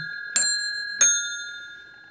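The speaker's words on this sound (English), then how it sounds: "And the bell's obviously adjusted nicely." An antique telephone bell with a finely adjusted striker rings twice, two sharp metallic dings with long ringing overtones that slowly decay, heard up close with no talk.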